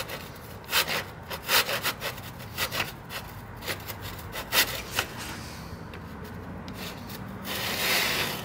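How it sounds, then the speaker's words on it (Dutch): A coarse hand saw cuts through an IKEA wooden balcony tile in quick, rasping back-and-forth strokes, close and fairly loud, with short pauses between bursts and no talking. "Het is wel een hele grove zaag hoor."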